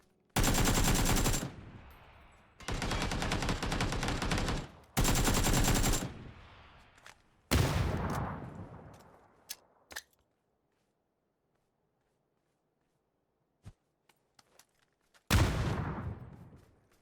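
Bursts of automatic gunfire in a PUBG gunfight, several loud sustained volleys of rapid shots with pauses and a few isolated single cracks, then a final burst near the end.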